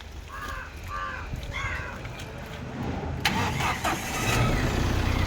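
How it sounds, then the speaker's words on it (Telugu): A vehicle's engine is cranked with the self-starter and fires up, its rough mid-pitched churn building into a running idle after about three seconds, with a few crow-like calls early on. "ఇంజిన్ ఒకసారి సెల్ఫ్ కొట్టి"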